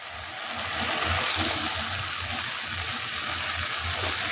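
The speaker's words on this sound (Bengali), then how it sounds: "এবার আমি জল দিয়ে দেবো।" Water poured from a spice-washing bowl into a pan of cauliflower kofta curry, a steady loud gushing splash lasting several seconds without speech.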